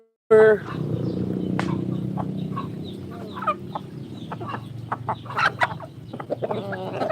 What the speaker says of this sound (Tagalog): Papakain po tayo ng manok.